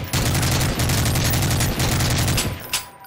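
Sustained rapid gunfire in a Siren Head horror video game, loud and dense, with steady repeating bursts that last nearly three seconds before tapering off.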